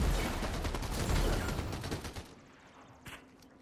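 A dense, rapid stream of close gunfire in Fortnite for about two seconds, then it cuts off, leaving a couple of faint, scattered shots.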